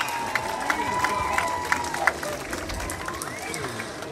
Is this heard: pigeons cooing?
no